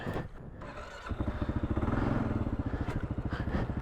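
A Kawasaki KLR650S motorcycle engine thumps at low, steady revs while the bike crawls slowly down over an obstacle off-road, a close, rhythmic single-cylinder putter that strengthens after a quieter start.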